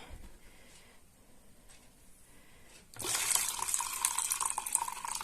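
Quiet at first, then water rinsed over tomato seeds suddenly pours out in a steady splashing stream, close by, continuing to the end.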